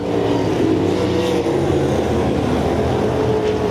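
305 sprint cars race around a dirt speedway oval, their engines producing a dense, continuous roar that is loud and sustained as the pack circles, with a race commentator faintly audible in places.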